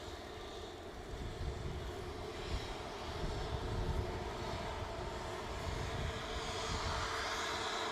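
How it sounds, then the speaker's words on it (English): An Airbus A320neo sits at Manchester Airport before departing for Skiathos, its jet engines giving a steady, moderately loud rumble and broadband roar that swells slightly partway through, with no voices. "It's an A320 Neo, and this one will be heading off momentarily to Skiathos."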